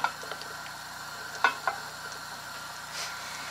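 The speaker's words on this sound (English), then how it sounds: "I can hear it sizzling too." Waffle batter sizzles faintly inside an antique waffle maker, a soft steady hiss broken by a few small pops and crackles, close by with no talking.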